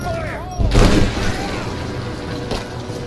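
Gunfire in the video game Rise of the Tomb Raider: a heavy boom followed by a rumbling burst of shots and a later, fainter report, loud and close amid game noise.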